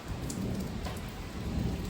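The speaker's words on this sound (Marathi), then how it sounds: "गारा पण पडल्यात" Heavy rain and hail pour down during an unseasonal storm in Nagpur, a dense, steady close-up hiss with faint scattered impacts throughout and no voices.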